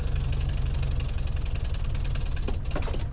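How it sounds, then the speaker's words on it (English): A VW Beetle engine idles steadily after a winter cold start, a loud, continuous low rumble with a regular ticking pulse and no voices over it. "I tried tickling the carb just a little bit, and now it's running"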